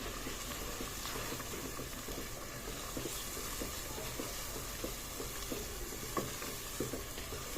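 Food frying in a pan for a birthday-day biryani being stirred, a dense continuous sizzle with irregular scraping of a spoon against the pan, close and steady with no talking.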